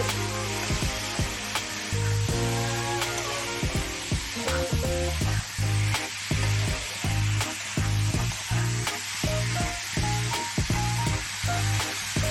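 Chickpeas for chola paneer sizzle and fry steadily in a pan while being stirred, with repeated scraping strokes of the spoon cutting through the constant loud hiss.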